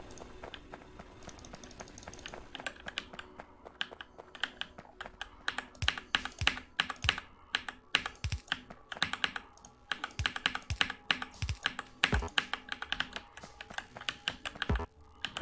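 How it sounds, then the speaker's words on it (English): Hard, fast typing on a computer keyboard during a Factorio PvP game, a dense stream of sharp clattering keystrokes with heavy thumps, continuing almost without pause. "Are you trying to murder your keyboard?"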